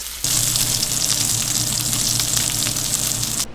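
A Japanese A5 Wagyu steak sears in a hot pan, giving a loud, steady broadband sizzle that runs unbroken for several seconds with no voices over it.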